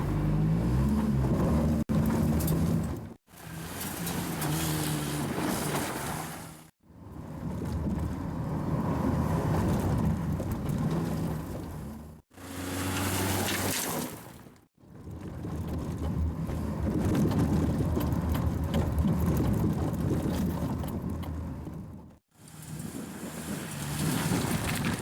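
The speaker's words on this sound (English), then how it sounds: "let's check out the off-road capability of the Honda Hack" A modified Honda Element, the Honda Hack, driving off-road, with a continuous rumbling engine and heavy wind buffeting in long stretches broken by brief drops to near silence.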